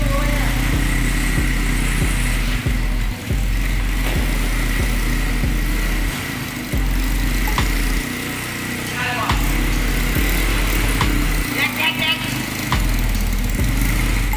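A small engine on a sugarcane leaf-stripping machine runs steadily during carburetor tuning, a loud, close, rattly idle with ticking pulses and slight surges, and people talk now and then over it.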